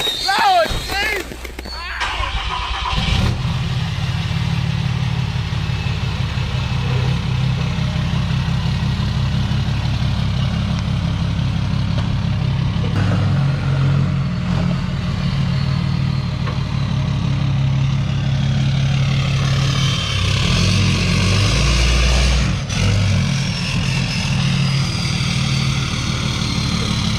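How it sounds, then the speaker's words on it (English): A 6.7 Cummins diesel truck engine runs at a steady, loud idle with a deep drone throughout as it is shifted into reverse, with people talking nearby. "Put it in reverse, Terry."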